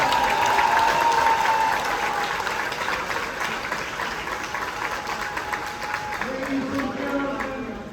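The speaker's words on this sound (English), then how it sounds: "I want y'all to give a big round of applause for Councilman Noel Giles" A crowd claps and cheers loudly for a councilman at an outdoor street-naming ceremony in Oakland, California, sustained applause that slowly tapers off while a voice speaks over it.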